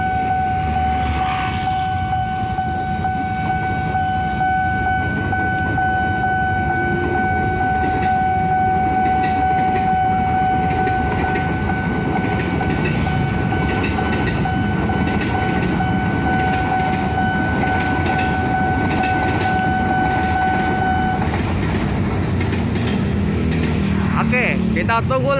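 A KRL commuter train in Jakarta rolls through the Duren Kalibata level crossing, its steady rumble under crossing bell tones that ring for about 20 seconds, with traffic noise around and people talking nearby.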